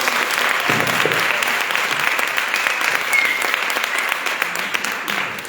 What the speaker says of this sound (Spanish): un fuerte aplauso damos la bienvenida a Betty